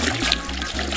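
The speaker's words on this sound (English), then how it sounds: "We add the second gallon of water." Gallon of water poured from a bucket onto the base of fruit trees, a short, steady splashing trickle close by with a faint murmur of voice beneath it.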